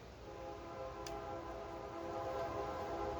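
A train rumbles steadily nearby, a continuous low roar with a faint high whistle-like tone briefly cutting in early on.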